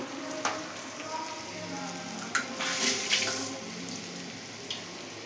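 Tomato and onion frying in a pan for chicken curry: a steady close sizzle with hiss, and a brief louder burst of sizzling partway through.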